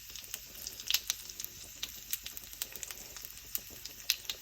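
Three red chillies dropped into hot oil for Nellore tomato charu, a faint, quiet crackle of scattered sharp pops and spits over a soft background sizzle.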